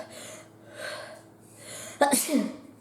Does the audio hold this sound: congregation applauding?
no